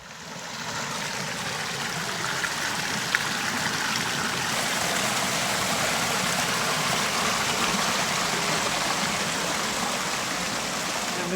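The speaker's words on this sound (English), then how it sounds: "it just started to rain really hard and actually started to hail again as well" Heavy rain and hail pour down in the Willis Creek narrows, a slot canyon, forming a dense, steady, hissing roar that fills the space close by without letup.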